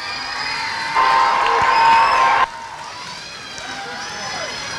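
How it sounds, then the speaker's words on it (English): A crowd at a summer camp finale cheers and shouts, with a loud, dense swell of voices that peaks and then drops to a lower murmur of chatter and whoops. "A big round, a loud round of applause for all of you."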